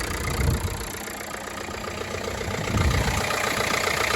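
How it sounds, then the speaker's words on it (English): A 2013 Renault Clio engine idles just after a full oil, fuel and filter service, a loud close continuous rumble with a dense mechanical tick and no voices. "now we've got the engine running"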